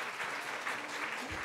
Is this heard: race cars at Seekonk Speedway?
no